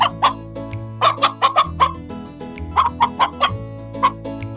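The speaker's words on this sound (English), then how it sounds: "I think that might have been the chicken I saw earlier." Chicken on a farm in a Paw Patrol kids' adventure clucks repeatedly in quick bursts, loud and close with no talking.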